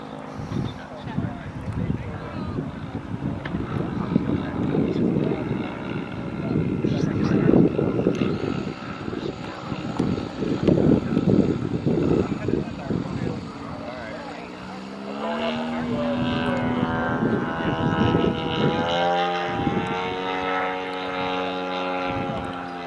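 A giant scale Aviation Concepts Cessna 185 Sky Wagon radio-controlled model plane drones overhead, its engine roar swelling and fading as it passes, then a rising, shifting buzz as it climbs and turns, with people talking underneath.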